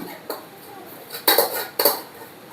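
A utensil scrapes cooked Maggi noodles from a pan onto plates in a home kitchen, three close, loud metallic scrapes, each about a second apart.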